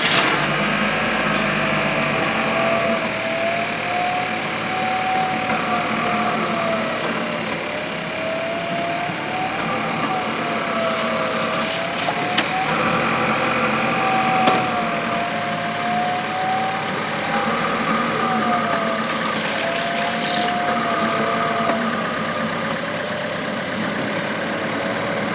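A 2020 Chevrolet Equinox engine, during a 6T40 transmission fluid service, runs at a steady idle after starting, a continuous even hum with a faint wavering whine and light clatter throughout.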